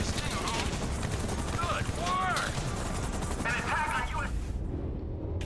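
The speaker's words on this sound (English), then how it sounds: "I need to try to shoot these guys." Gunfire in the Grand Theft Auto V video game, with busy, dense shooting and chaotic game effects throughout and a short quieter stretch at the end.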